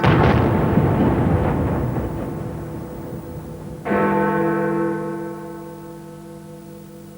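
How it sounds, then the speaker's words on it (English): A deep bell stroke of Big Ben marking 11 o'clock decays slowly, while a single artillery shot from the Royal Horse Artillery cracks out partway through and rings away into quiet. "When the chimes of Big Ben reached 11 o'clock"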